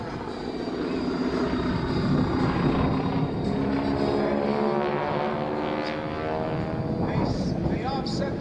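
Aerobatic planes from a team that includes an ex-Red Baron Stearman Squadron pilot fly a loop with a quarter roll at the Dayton air show, a steady droning propeller roar holding throughout while an announcer talks over it.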